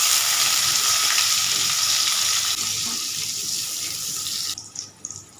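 Onion and garlic with panch phoron hitting hot fish-frying oil, a loud steady hiss and crackle close by that fades and drops off near the end into a few scattered pops.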